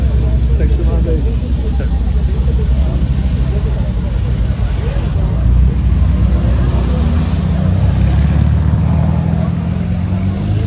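Air-cooled Volkswagen Beetle-based classic car engine running at a steady, throaty drone, loud and continuous at an outdoor oldtimer gathering, with voices talking over it.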